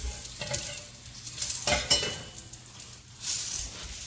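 Oil sizzles steadily in a pan as flatbread fries, with a few scraping stirs and light clinks, close by, no talking.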